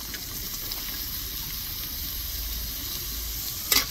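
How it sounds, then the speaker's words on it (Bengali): Chopped onion, carrot and potato frying in a pan, a steady soft sizzle with a low rumble, ending in a brief louder stir. "আবারও খুব ভালো করে ভেজে নেব।"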